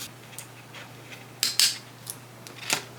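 Scissors snip through paper in a series of short, crisp cuts, with two louder snips near the middle, close up over a low steady hum.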